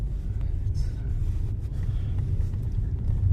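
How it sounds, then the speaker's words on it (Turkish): A car approaching on a village road near Bölükyazı in Bitlis, heard as a steady low engine and tyre rumble throughout, with faint background noise and no clear pass-by peak. "Araba geliyor dikkat edin."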